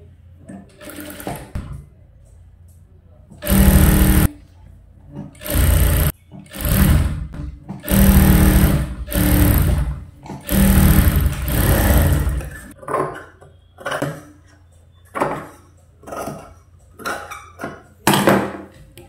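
A sewing machine stitches the lining into a princess-cut blouse in loud, start-stop bursts of a few seconds each, with quieter pauses between runs.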